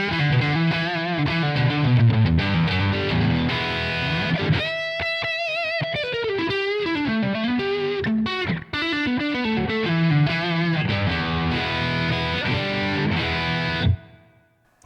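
A distorted electric guitar played through a ToneX plug-in tone with room reverb and reduced delay rings out in loud chords and lead lines, continuous for most of the passage before cutting off at the end.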